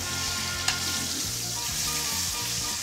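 Entrecote steak sears in a hot pan with a steady, dense sizzle and crackle, close and continuous throughout, with one brief sharp pop early on and no talking.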